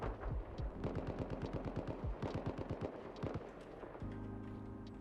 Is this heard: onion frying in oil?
no